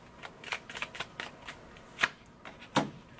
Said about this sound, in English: let me just pull these cards now